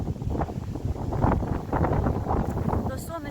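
Cold wind buffets a microphone outdoors in a continuous rough rushing roar, gusting louder and softer over a few seconds.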